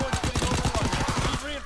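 Rapid bursts of gunfire from a gun in the Call of Duty WW2 beta hardpoint match, a dense rattling volley of shots lasting over a second, loud and close.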